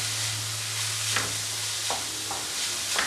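Crushed coconut stirred and frying in a pan for a spinach and green gram thoran, a steady soft sizzle broken by several brief scraping strokes of the spoon, close and fairly quiet with no talking.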